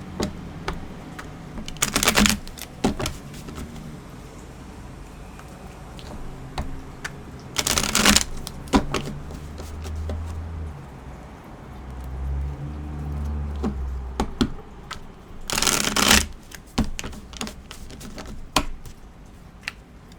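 Repeated bursts of tarot cards being shuffled, a Rider-Waite deck, three distinct riffling flurries spaced several seconds apart, with quieter handling and tapping in between.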